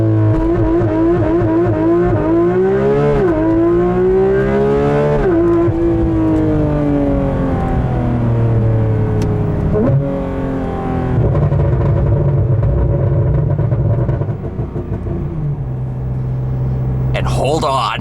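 A 2019 Porsche GT3 RS with an IPE exhaust and crackle tune revs hard on a launch-control start and surges through rapid PDK gear changes, the pitch repeatedly climbing and dropping, loud and close.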